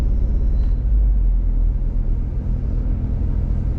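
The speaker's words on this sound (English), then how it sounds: "I'm pretty bummed out that this car's misfiring" A misfiring car's engine rumbles from inside the cabin on a narrow country road, a loud, steady low drone with slight unevenness throughout and no voices over it.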